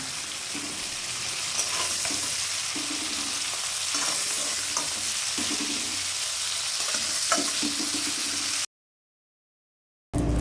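Whole cumin seeds and bay leaves sizzle and crackle in hot mustard oil, being stirred as prawn curry with potato is cooked; steady close frying hiss with stirring scrapes, then a sudden cut to silence near the end.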